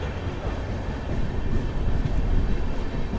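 Sabari Express, a passenger train making its first run with LHB coaches from Secunderabad to Tirupati, heard from on board as a steady, broad rumble of wheels and carriages that swells slightly partway through.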